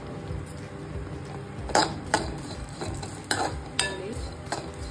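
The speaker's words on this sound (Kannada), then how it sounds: "ಗಸಗಸೆ, ಎಳ್ಳು, ಏಲಕ್ಕಿ ಪುಡಿ ಎಲ್ಲನೂ ಒಟ್ಟಿಗೆ ಹಾಕ್ಕೊಂಡು ಫ್ರೈ ಮಾಡ್ಕೋಬೋದು." Poppy seeds, sesame and cardamom powder frying in a pan while being stirred: a soft background sizzle broken by several sharp scrapes and clinks of the spoon against the pan, close and moderately quiet.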